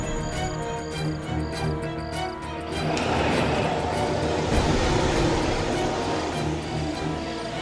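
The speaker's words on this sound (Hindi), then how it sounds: "बस की आवाज है" A bus engine rumbles steadily nearby, rising into a louder, broad roar partway through, with faint voices in the background.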